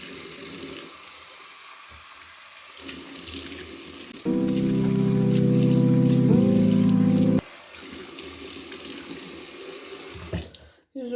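Tap water runs steadily into a sink as a facial cleansing device is rinsed during a night skincare routine, the flow growing heavier and louder for a few seconds midway before easing back and cutting off.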